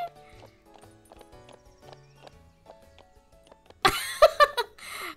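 Horses walking through an auction house in the horse game The Ranch Of Rivershine: soft hoof clip-clops over game music, then a louder burst of snorts and whinnies near the end.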